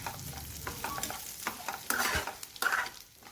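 Masala with coriander seeds and sesame being stirred and fried in a pan, with scraping strokes of a spatula and short bursts of soft sizzling, close and uneven.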